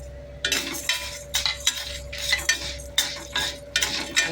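Garlic, tamarind and dried red chillies are sautéed in a pan, with a spatula scraping and clinking in a steady rhythm of strokes over a faint sizzle, close up and with no talk.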